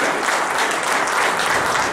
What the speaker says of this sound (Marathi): सर्व टीमचे एकदा टाळ्या वाजवून जोरदार अभिनंदन करूया